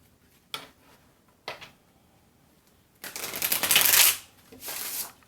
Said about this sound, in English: Let's do one good shuffle here.